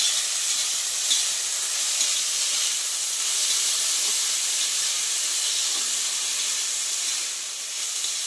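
Leafy greens fry in a large wok, a continuous, even hiss of steam and sizzling oil heard close and steady throughout, with no speech.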